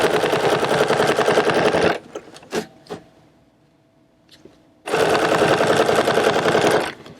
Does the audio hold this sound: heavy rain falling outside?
no